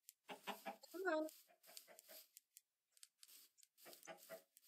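Chickens clucking in Minecraft, short scattered cluck sounds with a squawk amid quiet gaps, mixed with light game noises.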